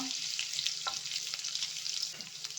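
Garlic and ginger fry in a pan for a cheese pasta, giving a steady close sizzle with a couple of light stirring knocks, alone and fairly quiet.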